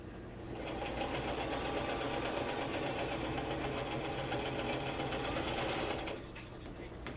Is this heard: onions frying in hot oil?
no